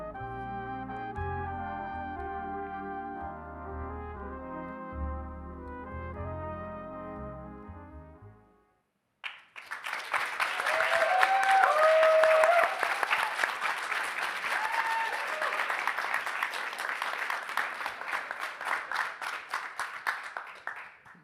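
Applause at the Just Play Awards Ceremony 2024 bursts in after about nine seconds of a musical passage and continues as a dense, loud, sustained clapping from an audience to the end.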